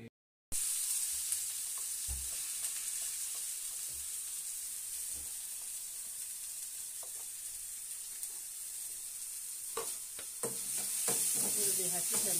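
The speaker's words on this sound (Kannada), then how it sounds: "ಈರುಳ್ಳಿ ಹಾಕಿ ಚೆನ್ನಾಗಿ ಫ್ರೈ ಮಾಡಬೇಕು." Onions fry in homemade natural oil with a steady, close sizzle, punctuated by occasional scraping stirs that grow busier and louder toward the end.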